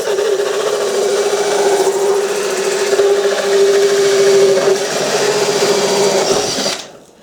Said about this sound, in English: Now why did I drill the holes before I folded the ends up?